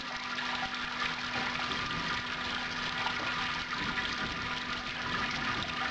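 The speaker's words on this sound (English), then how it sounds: "I'm just going to sparge with straight tap water" Tap water pours steadily over a lifted malt pipe during sparging on a Robobrew homebrew system for a stout, a continuous close splashing rush with no pauses or talk.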